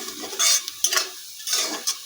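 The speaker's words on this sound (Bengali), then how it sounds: "এখন এই দুটোকে ভালো করে এর সঙ্গে মিশিয়ে দিচ্ছি" Spoon stirring turmeric and chilli powder into chicken frying in a pan for chicken bhuna, with close scraping strokes in short bursts over a steady soft sizzle.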